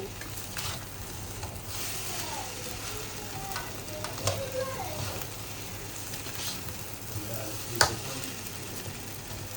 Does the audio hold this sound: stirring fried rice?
yes